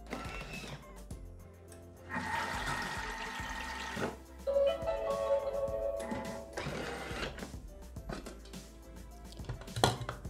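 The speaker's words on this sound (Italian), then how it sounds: "Ed azionare il bimby per un minuto." A Thermomix (Bimby) kitchen machine mixes pinsa dough of water, oil and yeast at speed 3, a close whirring churn in several uneven bursts with clinks and sloshing between them, no talking.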